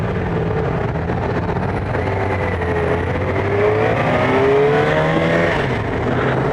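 A Yamaha FJ-6R motorcycle pulls away and accelerates close by, its engine note climbing through rising revs over a steady road rumble.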